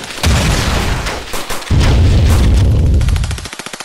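Loud gunfire crashes out in a LEGO stop-motion monster movie, a dense burst of booming shots for about three seconds that ends in a quick rattling volley, with no speech.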